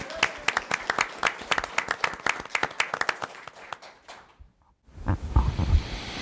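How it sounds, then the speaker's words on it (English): Clapping from a small audience at a documentary Q&A panel on opioid abuse, a burst of sharp claps lasting about four seconds before dying out, followed by some shuffling and faint indistinct voices. "round of applause for Desmond."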